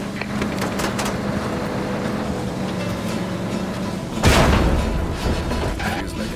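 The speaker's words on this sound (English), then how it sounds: "Feels like an explosion, Scott." A loud explosion bursts out partway through a Just Cause 3 gameplay scene, over a steady roar of engines and rumbling action, with a broad crash that decays into continuing noise.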